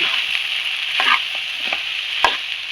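Ladyfinger (okra) curry frying and being stirred in a pan, a steady bright sizzle broken by a few scraping stirs of a spoon, close and fairly loud.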